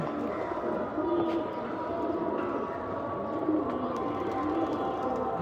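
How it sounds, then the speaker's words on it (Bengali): Black racer pigeons released and flying off outdoors, with soft cooing and faint wing flutters over a low steady background rumble, fairly quiet and continuous. "বেরো বেরো বেরো, ব্ল্যাক রেসার ছাড়লাম।"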